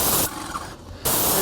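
A paint sprayer spraying a house window frame: loud steady hissing bursts, briefly easing off for under a second before resuming at full force.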